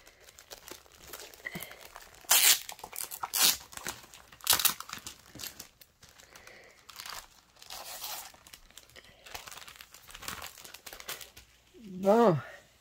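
A subscription cross-stitch box is torn and unwrapped, with sharp crinkling and ripping bursts of paper or plastic packaging scattered across the clip, close by, between stretches of quieter handling and brief speech at the end.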